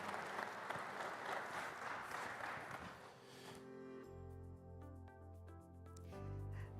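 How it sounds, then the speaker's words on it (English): Audience applause for panel guests at a plenary session, a dense wash of clapping for about four seconds that then fades out as music with steady low tones comes in. "please round of applause for my fantastic guests"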